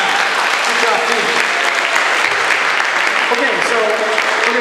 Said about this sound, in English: Juliana and Debbie, get a big round of applause